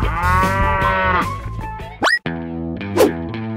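A cartoon cow blocking the road in a children's car game moos in long, drawn-out lows, two separate calls broken by a cartoonish boing effect, over a playful game-like background.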